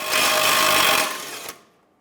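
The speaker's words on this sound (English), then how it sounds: "We're going to use our 21mm socket. Let's go ahead and loosen and remove this." Continuous mechanical whirring with a steady high whine for about a second and a half as a 21mm socket loosens a nut on a 2005-2010 Chrysler 300 steering rack, then a sharp click and fading rattle.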